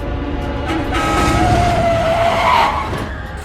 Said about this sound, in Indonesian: dia tertabrak oleh mobil truk yang melintas